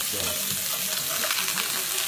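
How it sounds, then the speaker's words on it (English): Asparagus sauteing with garlic in a hot pan, giving a steady, close sizzle and crackle of frying that runs unbroken throughout. "meanwhile we got the asparagus going. sizzle, feel the sizzle."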